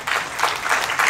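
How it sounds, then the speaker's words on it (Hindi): Scattered applause from a small audience of about twenty people, a brief patter of clapping at steady moderate loudness with no voices over it. "पीछे चल रही जितने लोगों को रोशनी चाहिए उन 20 लोगों ने तालियां बजाई।"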